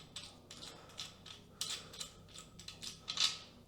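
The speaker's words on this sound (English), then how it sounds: "you unscrew the holder" Close, faint ratcheting clicks and small metallic creaks come in short irregular bursts as a grow tent fan's bracket holder is unscrewed by hand, with no voices over them.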